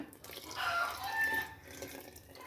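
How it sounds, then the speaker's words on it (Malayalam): Coconut milk is poured into a simmering pot of cracked-wheat payasam in a soft, steady stream lasting about a second, set against quiet kitchen background noise. "ഒന്നാം പാൽ ഒഴിക്കുവാണേ."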